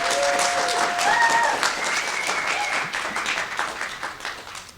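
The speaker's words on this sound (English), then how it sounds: "Your applause." Audience applause fills a convention panel room at MAGFest, a steady burst of clapping from a crowd that holds for several seconds and gradually thins, with a brief voice over it.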